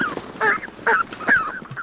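Canada geese on island wetlands honk in a close run of four or five harsh, nasal calls at an uneven pace, with no talking.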